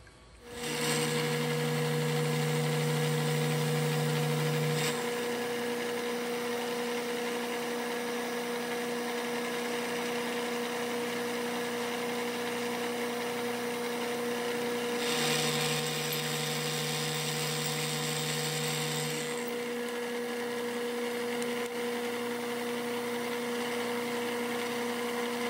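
Router with a circle cutting jig running continuously at a steady high whine, with louder cutting passes near the start and middle, close and alone without speech.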